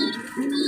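Hungry baby birds crying inside a cage, giving continuous near, loud cooing and calling cries that swell again partway through, with no talking.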